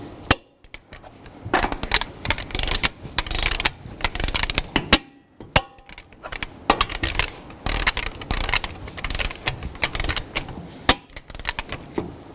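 A torque wrench tightens lug nuts in a cross pattern on a 2010-2017 Chevrolet Equinox wheel, producing bursts of close metallic ratcheting clicks and clinks separated by short pauses.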